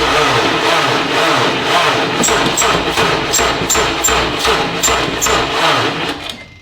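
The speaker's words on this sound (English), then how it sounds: "hopefully it has enough juice now to crank over" A base Honda Civic engine cranks over after its battery charge: a loud, close, rhythmic churning that pulses steadily for several seconds, then cuts off, with no talking.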